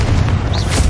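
A spell-cast explosion in a Harry Potter–style video game set in a tomb, heard as a dense, continuous low boom lasting under a second with steady rumbling weight and no break.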